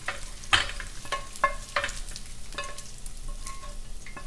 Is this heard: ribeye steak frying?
yes